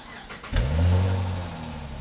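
A 2005 Dodge Magnum's engine cranks and catches, then settles into a loud, steady idle close by, with no one talking.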